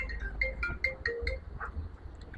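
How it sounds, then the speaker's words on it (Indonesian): A phone ringtone plays a short melodic pattern of bright tones, repeated several times at moderate volume over a low background hum. "Tuh telepon tuh."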